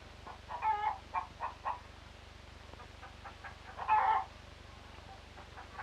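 Chickens cluck in short bursts on a 1930s farmyard, a mother hen with her chicks, a few moderately close calls separated by pauses over a steady low hum.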